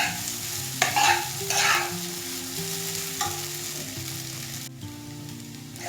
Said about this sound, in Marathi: एकत्र चांगलं करून घेऊया आणि तेलामध्ये चांगलं परतून घ्यायचं आहे